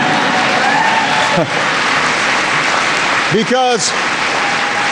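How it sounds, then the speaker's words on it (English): An audience at a political speech on gas prices cheers and applauds steadily, with a brief spoken word over the clapping near the end. "Yeah, that's worth applauding."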